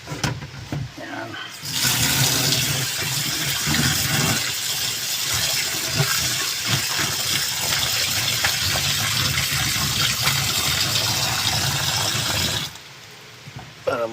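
Tap water runs steadily over vegetables being washed in a kitchen, starting after a brief quiet moment and stopping near the end, a loud continuous splashing gush close by.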